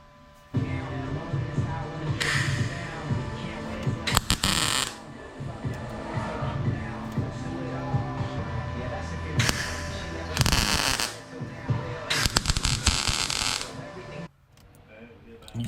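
A MIG welder running 75/25 argon and CO2 tacks a panel on an R32 GTR, with several loud, crackling, buzzing bursts of a second or two over a humming background, and a voice talking in between.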